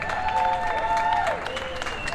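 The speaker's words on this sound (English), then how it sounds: "Let's give them a round of applause for hosting last year." Audience applause for the previous year's Puerto Rico hosts at a LULAC night event in New Mexico, a steady crowd clapping under a sustained tonal hum or music, fading slightly after about a second and a half.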